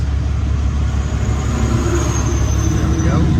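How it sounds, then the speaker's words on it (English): A heavy cement truck rumbles past nearby, its low engine drone steady and loud throughout with a faint whine above. "A cement truck coming from our left."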